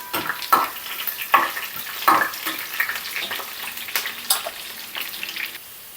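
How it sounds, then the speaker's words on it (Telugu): Cumin seeds, chana dal and urad dal sizzle in hot oil, stirred with a spoon in several distinct scraping strokes over a continuous close crackle, with no talking. "కొద్దిగా పచ్చిశనగపప్పు కొద్దిగా మినప్పప్పు వేసుకొని ఒకసారి కలుపుకున్నాం"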